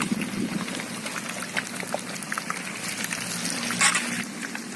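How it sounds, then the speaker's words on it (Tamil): Hot oil bubbling and sizzling around a whole chicken being fried in a village kitchen, a dense steady crackle with small pops, no talking. "பாருங்கள் எப்படி கொதிக்குது பாருங்கள்."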